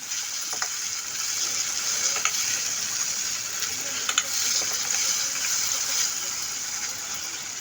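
Taro root curry with turmeric and salt is stirred in a pan, making a steady sizzling hiss with scattered light scraping clicks from the spoon, continuous and fairly close throughout.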